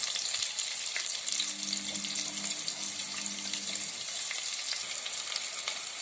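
Chopped onion frying in a pan with cumin seeds for a brinjal and drumstick curry, giving a steady, close, continuous sizzle with a faint low hum in the middle and no talking.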